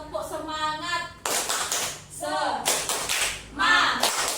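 A group at a training session does a rhythmic spirit clap, bursts of hand claps in a patterned sequence, close and moderately loud, mixed with chanted voices.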